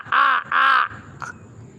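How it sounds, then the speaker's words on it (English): A crow caws twice in quick succession, loud and close, with each call harsh and drawn out, followed by a short, softer squawk and quiet outdoor background. "What's wrong, crow buddy?"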